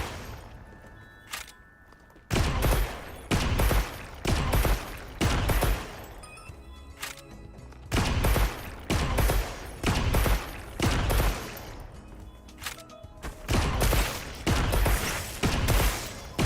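A bowgun-style weapon fires repeatedly in Monster Hunter Wilds, loud close shots arriving in quick regular volleys with brief pauses between bursts, the steady rhythm broken by short reload gaps.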